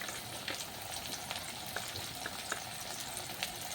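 Chopped onions fry in oil in a covered pan for an egg tomato curry, a close, constant sizzle with small crackles and pops throughout.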